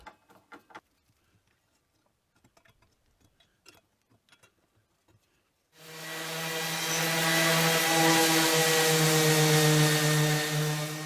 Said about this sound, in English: A bit more sanding on the top to get everything cleaned up